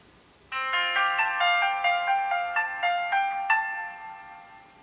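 A Fly DS 115 mobile phone plays its power-on startup tune: a bright, melodic sequence of electronic tones stepping along at a steady rhythm for about four seconds, close and clear with no talking.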